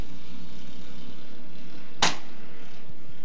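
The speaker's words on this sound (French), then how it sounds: "Le coup de canon d'1 minute" A single sharp cannon shot, the one-minute gun before a 5-litre class powerboat regatta qualifying heat at Valleyfield in 1990, bursts out against a low, steady background hum.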